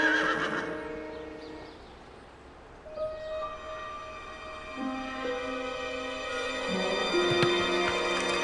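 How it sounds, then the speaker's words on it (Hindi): Comic mobile phone ringtone in a TV comedy, made of horse whinnies and clip-clopping hooves with tonal, music-like lines, moderately loud and played alone with no talk. "मेरे मोबाइल का रिंगटोन है सर।"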